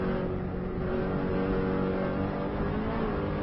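A Subaru car lapping the Isle of Man road course in 5th gear, its engine droning steadily and close throughout at sustained speed, with no talk.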